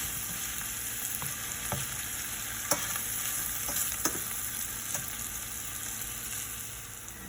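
White button mushrooms cook down in a pan with a steady, soft sizzle and hiss running throughout, broken by a few faint clicks of a utensil; no one speaks.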